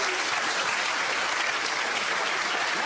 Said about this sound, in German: ein Applaus für den Herr Zanetti.